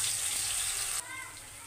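Ginger and garlic frying in a pan, a loud, close, steady sizzle that drops suddenly in intensity partway through and continues more softly.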